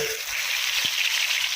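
Crispy fish fillet, dipped in cold water, dropped into hot oil for deep frying, giving a steady bright frying sizzle throughout, with a brief low thump as the piece goes in.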